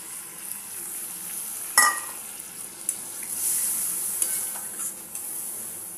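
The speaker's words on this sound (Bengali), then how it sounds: "বাকি ধোয়া জল দিয়ে দিলাম বন্ধুরা।" Prawn malaikari frying in a pan as the leftover wash water goes in, giving a steady soft sizzle with a sharper splash-burst near the two-second mark and light stirring scrapes, fairly close and without talk.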